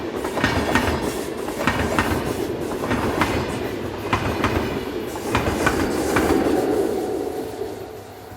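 Swiss locomotive 46104, pushing a Luzern to Basel passenger train from the rear, rolls past with steady rumbling and rhythmic clickety-clack wheel beats over rail joints, close and sustained throughout.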